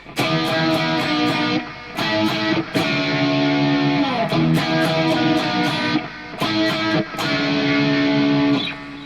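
A heavily distorted electric guitar chugs through the opening riff of a song, loud and gritty, with short pauses between phrases and no voices.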